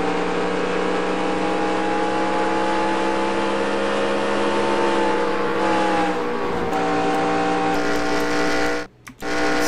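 Stock cars race at Iowa Speedway in NASCAR Racing 2003, with several engines screaming at high revs in a steady, loud drone that shifts pitch as cars run side by side, then briefly cuts out near the end.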